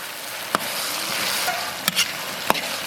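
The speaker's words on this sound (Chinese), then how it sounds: "炒一下出锅" Beef and mushroom sauce with Sichuan pepper, chilies and a splash of liquor stir-fried in a wok, a loud continuous sizzle broken by several sharp spatula scrapes and knocks.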